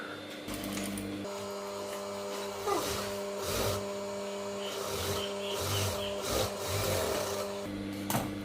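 A sewing machine runs steadily while stitching around the neckline of a gown, a continuous mechanical whir with small bumps and brief pauses as the fabric is guided, fairly close and with no talking.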